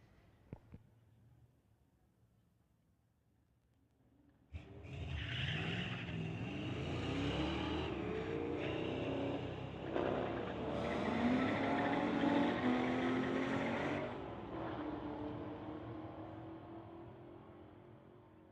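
Drag racing cars, one of them a Camaro, launch on a street-legal drag strip: quiet idle, then a sudden loud engine roar that climbs through the gears and holds for about ten seconds before fading into the distance.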